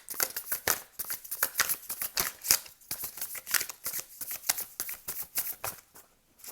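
Tarot cards being shuffled and drawn from a deck, a quick run of crisp riffling flutters and slaps repeating close up, with no voices over the paper sounds.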